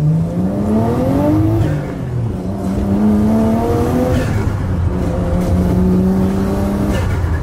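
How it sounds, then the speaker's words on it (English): A junkyard Nissan Skyline engine revs hard, climbing in pitch through repeated throttle pulls with brief drops between, loud and close throughout. "this car sounds so cool"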